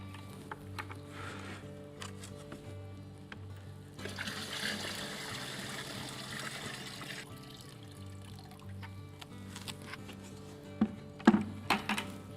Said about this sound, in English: Then you'll fill the reservoir with water to the very bottom of those baskets.